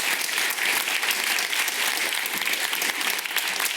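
A crowd applauds at an NHS pitch event in London, sustained thick clapping from many people that holds at an even, loud level from start to finish.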